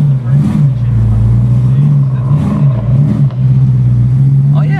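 A BMW M3 E92 engine runs loud and steady up close with strong low harmonics and slight revving swells, while people talk over it.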